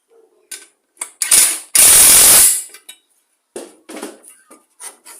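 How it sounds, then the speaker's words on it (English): A ratchet tightens the blade nut on a push mower during a service, giving close, loud bursts of clicking and mechanical rattles, with one longer harsh burst and shorter clicks trailing after. "so we'll put our washer on and then we'll put the nut on. So we'll just tighten it up."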